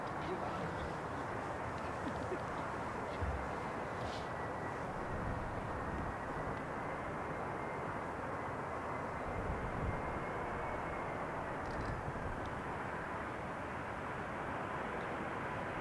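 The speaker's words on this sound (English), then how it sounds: "what a nice landing. Also a very smooth touchdown." An Air France airliner lands on runway 18R at Amsterdam Schiphol, a broad, steady jet roar at moderate distance holding evenly throughout with a slight swell, with no talk over it.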